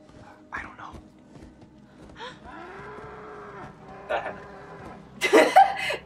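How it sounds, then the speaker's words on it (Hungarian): Cows in the Until Dawn video game moo several times, with low drawn-out lowing calls spread across the scene, while people whisper and chuckle in between. "Tehenek."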